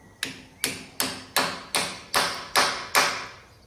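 A hammer strikes a punch while rebuilding a boat trailer, eight sharp metallic blows at a steady rhythm, each ringing briefly, close and loud with no talk.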